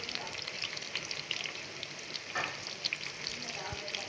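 Pakoras fry in hot oil, giving a dense, continuous crackling sizzle close by with scattered sharper pops and no talk over it.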